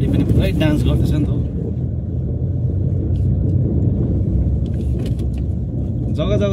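Vehicle rumbling and rattling as it bounces over a badly damaged road, a loud continuous low roar with knocks and jolts, a voice speaking briefly over it.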